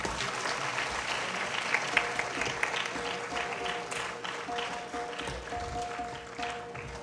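Warm applause from the audience fills the hall at an evening devotional music concert, steady and dense from start to finish, with a faint sustained tone lingering underneath.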